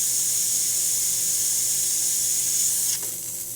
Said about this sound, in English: So let's take the steamer. That steam one got like deep cleaning too.